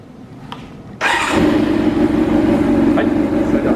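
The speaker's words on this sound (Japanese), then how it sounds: "はい、ではエンジン始動といきます。" After a second of quiet, a Kawasaki Zephyr χ motorcycle engine cranks and fires up, then settles into a loud, steady rumble close by.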